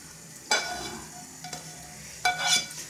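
Fried vegetables hiss and sizzle as they are tipped from a frying pan into a hot pot of borscht, with a few clanks of the pan and stirring amid a low steady sizzle.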